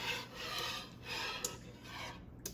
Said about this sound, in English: just gently whisk it until everything is broken down and melted